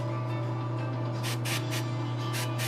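A Firestar custom statue is spray painted in short hissing bursts, about five quick sprays in a row over a steady low hum in the room.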